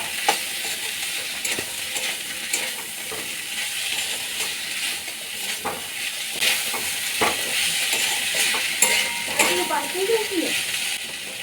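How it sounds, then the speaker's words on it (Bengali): Red amaranth leaves with poppy seeds, lentil nuggets and chopped nuts stir-fried in oil in a pan, steady close sizzling and frying with repeated scraping stirs throughout, no talking. "পোস্ত, বড়ি, বাদাম কুচি দেওয়া শাকটা ভালো করে তেলে নাড়াচাড়া করে নেব"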